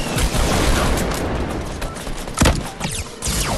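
Gunfire in a Fortnite Blitz squad match, rapid bursts of shots and booms, loud at the start and tapering into scattered sharper reports, with no talk.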